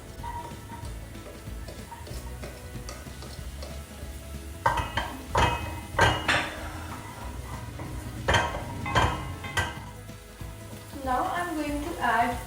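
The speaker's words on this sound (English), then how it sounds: "now I'm going to add the finely chopped onions into the oil" Finely chopped onions going into a few drops of hot oil in a pan, a soft sizzle under clinking and scraping of a utensil against the pan, while a person talks.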